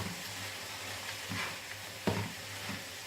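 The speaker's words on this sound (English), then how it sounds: "I just want to fry this mince off until it's cooked." Beef mince fries in a pan on high heat with a faint, continuous sizzle, broken by a few soft stirring scrapes and one brief sharper clatter.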